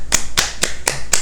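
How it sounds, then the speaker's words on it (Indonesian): A few people applauding in a small group, five crisp hand claps in a steady, slightly uneven rhythm, close and fairly loud, with no talking over them. "Ini buat apa tepuk tangannya?"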